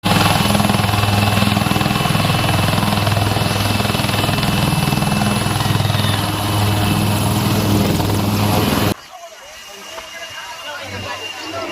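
A rescue helicopter drones loudly and steadily for most of the clip during flood relief, its rotor throbbing up close, then cuts off abruptly, leaving quieter background noise.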